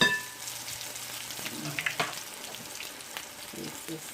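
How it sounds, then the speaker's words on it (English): Akara bean fritters frying in hot oil, a steady soft sizzle and crackle with small pops and bubbling, close and moderately quiet, with no talking. "that is when you're about ready to start frying your akara"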